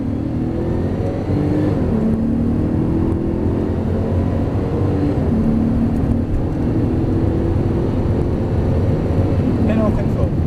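A Porsche GT3 Turbo accelerates on track, its engine droning loudly and steadily from inside the cabin with a rising pitch, briefly easing around shifts, while someone speaks over it.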